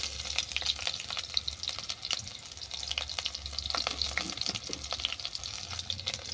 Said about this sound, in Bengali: আম নাড়তে নাড়তে যখন নরম হয়ে যাবে